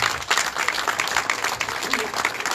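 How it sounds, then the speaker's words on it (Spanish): An audience applauds a speaker at a community works event, dense sustained clapping close and loud for the whole stretch, with no voices rising above it. "Las palmas, por favor, una vez más para el caballero"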